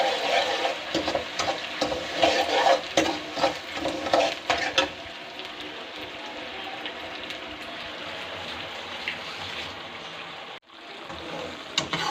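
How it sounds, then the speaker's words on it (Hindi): Sugar syrup for sweet zarda bubbles in a pot while a spoon stirs and scrapes against the metal in bursts, then settles into a steady soft simmer. "हमारी जो चाश है वो पकना शुरू हो गई है।"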